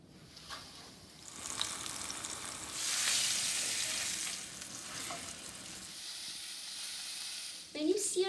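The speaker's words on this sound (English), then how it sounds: "Now I'm going to sear all sides of the meat in my pan that I've already preheated in" Floured beef sears in a preheated pan on medium-high heat for a pot roast, giving a loud, steady sizzle that swells midway, with a brief clatter of utensils near the end.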